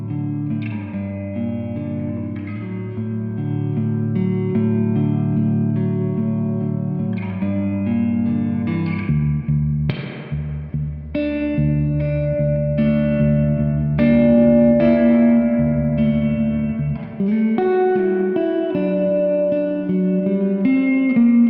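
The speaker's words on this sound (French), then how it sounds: "Allez, reverb modulé," Electric guitar chords and single notes drenched in shimmering, wavering modulated reverb from a multi-reverb pedal, long washy tails ringing under each strum; loud and steady, no voices.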